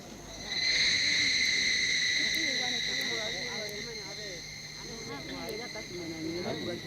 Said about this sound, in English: in a silence broken by shrill tree insects